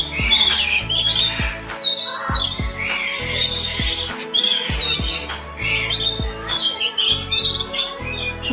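Black crows squawking harshly and repeatedly as they play-fight in a park enclosure, loud, close and overlapping in quick bursts with no talk.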